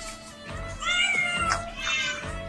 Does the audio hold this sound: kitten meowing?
yes